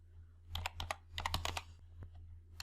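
Rapid keystrokes on a computer keyboard while entering an Excel date formula, two quick bursts of close clicking over a low steady hum, then a couple of isolated taps.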